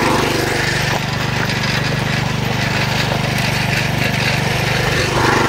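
A MTZ walk-behind tractor engine runs steadily under load, hauling a heavy post in third gear, a loud continuous close-up drone with a rough mechanical rattle throughout.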